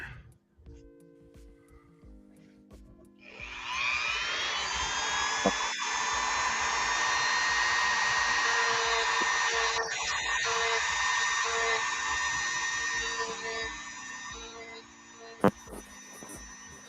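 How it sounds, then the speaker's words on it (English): A Dremel rotary tool sands an action figure in a steady high-pitched whine that lasts about eleven seconds, close and fairly loud, then cuts off into quiet handling sounds. "How much quicker everything goes with Dremel. It's got to be very gentle though."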